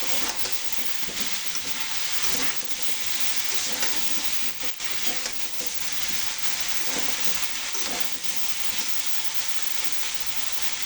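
Bottle gourd fries in a pan after the fish is lifted out, giving a continuous loud hiss and sizzle with gentle rises and falls as it cooks, close up and without talking.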